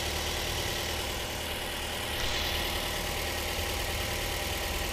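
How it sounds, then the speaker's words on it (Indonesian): The engine of a 2010 Toyota Avanza G automatic idles smoothly, a steady, continuous, close-up hum with no talking over it. "Oke, ini mesinnya. Mesinnya alhamdulillah masih halus ya."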